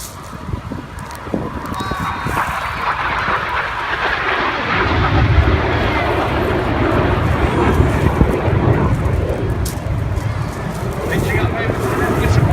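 Red Arrows jets roar through a flyover display at the 2016 Eastbourne air show, trailing white smoke. The wide, wind-buffeted rumble swells loudly about halfway through and stays strong, with a commentator talking over it.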